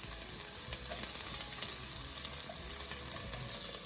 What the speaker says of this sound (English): And I'm going to add in a bit of garlic. Yeah, you can see that's really hot in there.